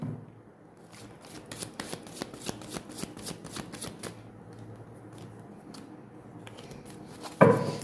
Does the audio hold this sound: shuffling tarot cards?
yes